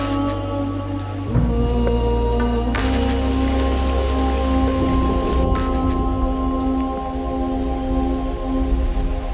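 Rain falls steadily in a continuous dense hiss of drops, loud and close throughout, with a sustained tonal drone layered underneath.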